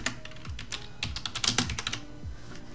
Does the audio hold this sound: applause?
no